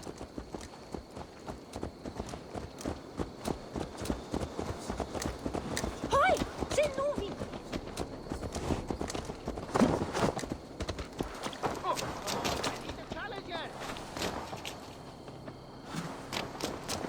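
Horse hooves clip-clop at a walking pace in Assassin's Creed Valhalla, a steady soft rhythm sitting under game ambience and spoken dialogue.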